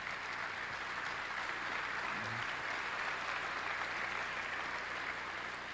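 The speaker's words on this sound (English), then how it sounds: "Were my children applauding there?" Audience at a Berkshire Hathaway annual shareholder meeting applauding, a steady, distant wash of many clapping hands in a large hall, even and unbroken throughout.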